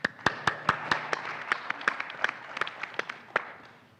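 Scattered hand claps from a small audience at a venture capital summit, distinct individual claps at an irregular rhythm that thin out and fade toward the end.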